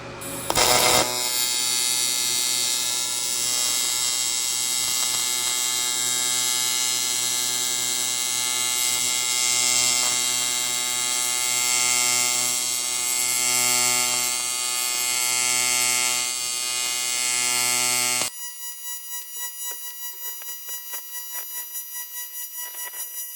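TIG welding on aluminum produces a loud, steady electric buzzing hiss for about eighteen seconds, then drops to a quieter tonal hum with no speech.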